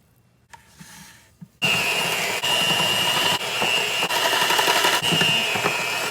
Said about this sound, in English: Now we're gonna beat our butter for 30 seconds. With an electric mixer.